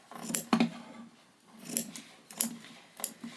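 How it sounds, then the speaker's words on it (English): Scissors snip through macrame cord, trimming the base of a desert mist diffuser cover; about four crisp cuts come in uneven bursts, close and fairly quiet, with no talking. "you're just gonna cut along the base"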